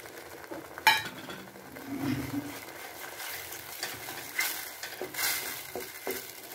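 Spoon stirring chili, salt and turmeric masala into a frying tomato, chili, ginger and curry-leaf paste, with soft sizzling, scraping and an occasional metallic clink against the pan.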